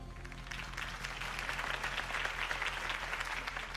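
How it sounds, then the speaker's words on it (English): Steady crowd applause in the video game Batman: The Telltale Series, a dense wash of clapping that holds at an even, fairly loud level throughout with no voices over it. "could have heard that applause"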